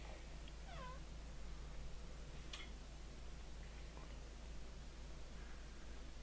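A cat meows faintly in the background, a couple of short rising cries early on, over the constant low hum of air conditioning in a quiet indoor room, with no speech.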